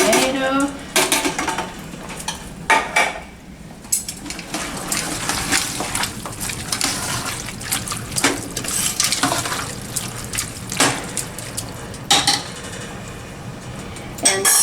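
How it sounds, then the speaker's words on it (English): Canned tomatoes go into a pot of bean chili, with intermittent metallic clinks, can and spoon scrapes and wet plops against a quiet kitchen background. "I'm gonna add another can of the tomato."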